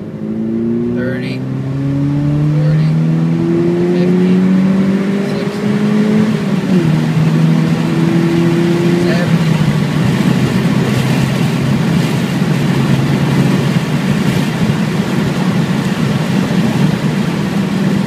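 A car with a Magnaflow exhaust accelerates hard through second and third gear, the engine note rising in pitch with each pull and dropping briefly at the shift. The exhaust roars loud and close, heard from inside the cabin.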